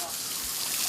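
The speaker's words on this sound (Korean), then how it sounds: "시원하게 샤워를 시켜주는 겁니다" Water sprays steadily as a shower for an Asian elephant at a zoo, a continuous broad hiss of gushing water filling the whole moment with no pause.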